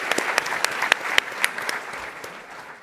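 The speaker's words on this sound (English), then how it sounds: "Give them a round of applause" Audience applause at a startup pitch competition final, many people clapping with a few sharp individual claps standing out near the front, tapering gradually toward the end.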